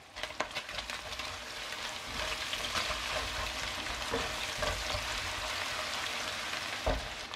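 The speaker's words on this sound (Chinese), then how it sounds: "然后加入两个八角，再加入切好的葱姜进去翻炒" Pork stir-fries in rendered fat with two star anise pods, scallion and ginger, giving a continuous close sizzle with stirring scrapes and a few sharp utensil knocks.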